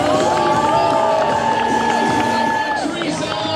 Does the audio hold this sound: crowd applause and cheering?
yes